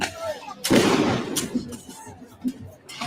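An explosion at a university protest, a loud close blast followed by a rumbling wash of crowd noise, with a voice speaking under it.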